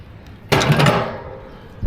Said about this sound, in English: We have a door latch.